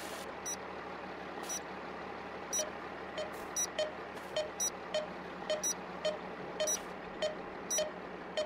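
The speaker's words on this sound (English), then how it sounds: "Let's see what the beeping is." Short high-pitched electronic beeps in Farming Simulator 22 repeat at a steady pace over a low engine-like hum, with no talking.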